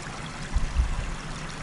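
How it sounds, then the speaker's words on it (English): Irrigation ditch water flows out and spreads across a field on a tree farm, a soft continuous trickling stream with a few low gurgles and bumps, outdoors and moderately close, without speech. "how much water was coming, is just going and spreading out all over the field"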